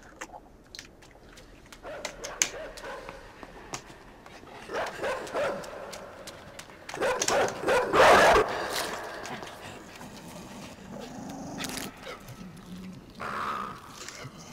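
A dog in the video game Inside barks, yips and whimpers in short scattered bursts, moderately loud with a louder flurry midway, mixed with other game noises.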